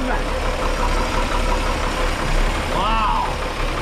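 The engine of a 1961 Ford Falcon Delivery idles steadily and loudly up close, with a short voice breaking in near the end.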